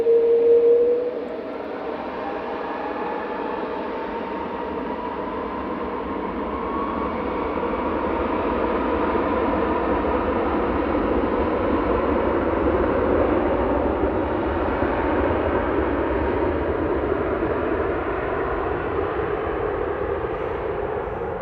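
A jet airliner, an A330-200, departs Manchester Airport, heard as a steady, broad engine roar that swells slightly and holds at moderate distance for the whole stretch, with no talking.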